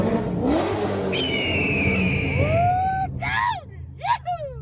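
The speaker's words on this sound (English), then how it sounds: "we're gonna give her a little rev under this bridge" A Corvette C5/C6 V8 revs hard under a bridge, loud and close, with rising and falling engine sweeps echoing off the structure and two sharp blips near the end.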